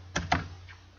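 Two quick, close keystrokes on a computer keyboard, a faint third tap following, in a quiet room.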